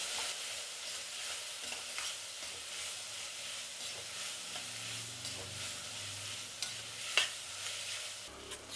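Pumpkin pieces sizzle and soften in a pan, a quiet continuous frying hiss with occasional scraping stirs and soft knocks from the spoon.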